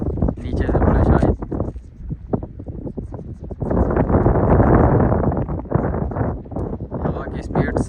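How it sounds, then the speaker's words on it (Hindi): Strong wind gusts roar across the microphone in loud, uneven surges during an outdoor kite-flying contest in Jeddah, with people talking intermittently beneath the rushing buffeting. "हवा तेज़ हो गई है, तुरंत ही हवा तेज़ हो गई है"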